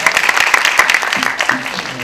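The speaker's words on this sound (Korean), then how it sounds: "여러분 박수 한 번 더 부탁드리겠습니다." Audience at a film Q&A screening gives a short burst of applause, brisk close clapping that softens as voices begin talking over it.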